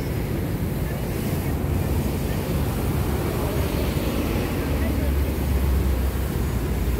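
Sea surf along the shore near Kennedy Town, Hong Kong, a steady broadband wash with wind buffeting the microphone, continuous and fairly loud throughout.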